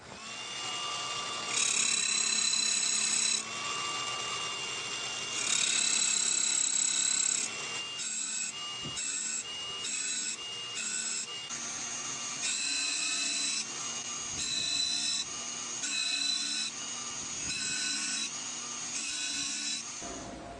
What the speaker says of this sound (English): I'm just going to press the blade into the wheel a bit and then set the stop there.